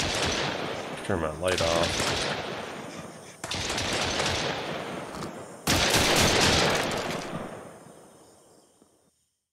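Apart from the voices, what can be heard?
gunfire in video game Mist Survival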